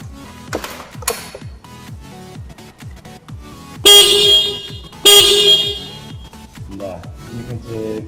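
A motorcycle horn sounds in two loud, sustained blasts of about a second each during an electrical repair check, with clicks and handling noises between them.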